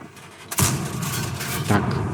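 A tank cannon fires in World of Tanks with a sudden heavy boom, followed about a second later by a second blast, both backed by a continuous rumbling battle ambience.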